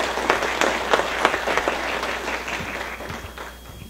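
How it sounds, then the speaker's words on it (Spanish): An audience claps loudly in a lecture hall as a university lecturer is welcomed, with dense steady applause that holds for about four seconds before gradually thinning out. "Recibamos con un fuerte aplauso al doctor Nicolás Salas Parra."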